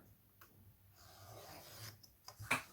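Scissors trimming a piece of canvas for a homemade stay-wet paint palette, giving soft raspy cutting strokes in short bursts close by, ending with a sharper snip.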